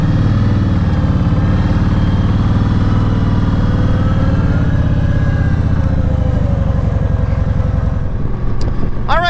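A motorcycle engine runs steadily and loud up close as riders set out on a 320-mile ride across Pennsylvania on an unfamiliar bike, a continuous throbbing drone with a brief change near the end.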